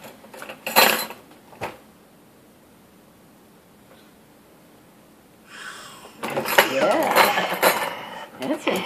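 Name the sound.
spoons clinking while unloading a dishwasher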